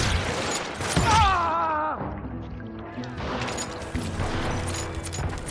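Gunfire from the video game Call of Juarez: Gunslinger, a loud burst of shots around the first second followed by ringing tones and continued in-game action noise, with a voice briefly under it.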